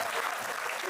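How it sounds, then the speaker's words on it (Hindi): Brief burst of audience applause at a Hindi comedy performance, a dense, even patter of clapping filling the short moment. "एक बार ताली बजाओ भाई"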